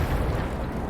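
A Soviet SU-85 tank destroyer's cannon firing in a video game, a loud, close, booming blast with a dense low rumble filling the entire second.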